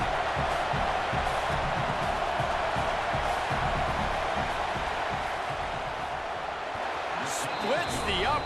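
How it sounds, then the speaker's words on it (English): A dense, steady roar from a packed football stadium crowd at Ole Miss as the field goal team lines up on fourth down, sustained throughout with scattered whistles and shouts rising near the end. "This crowd trying to do its part to get inside the kicker's head."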